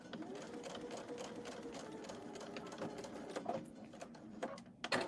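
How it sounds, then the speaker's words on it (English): A sewing machine stitches a fabric lining with a steady, fast mechanical whir and clatter, fairly faint and continuous, with a few louder knocks near the end. "when I come back and I sew the lining on with 1/4 of an inch"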